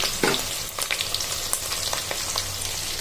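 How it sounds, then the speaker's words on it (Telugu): Onions frying in a pan for hilsa fish pulusu, a steady close sizzle with crackling pops and a few stirring scrapes, continuous and fairly loud throughout, no talking. "ఉల్లిపాయలు బాగా వేగిన తర్వాత మనం చేసి పెట్టుకున్న ఉల్లిపాయ పేస్ట్ అండి,"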